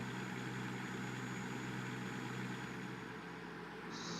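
A truck engine idles steadily in Trucking Simulator, a continuous low hum with a constant drone and no change in pitch. A high tone enters near the end.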